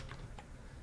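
Brief, faint tapping of a few keys on a computer keyboard, quick clicks close by in a quiet room.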